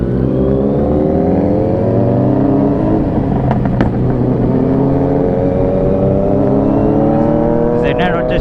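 A Kawasaki Z900 superbike engine running on a night ride, a loud, close, rising drone of revs climbing steadily, with a brief sharp crackle near the end and voices faintly mixed in.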